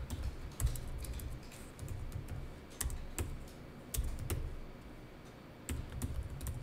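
Computer keyboard typing during data entry in an accounting class, with bursts of close, crisp keystrokes separated by short pauses.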